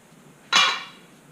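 A single brief scraping swish of a rubber or plastic paddle mixing epoxy for a decorative flake floor, close and fairly crisp, then quiet.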